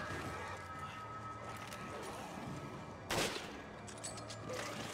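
A single loud gunshot cracks in Resident Evil 5 amid a dense game soundscape of background rumble and faint mechanical noise.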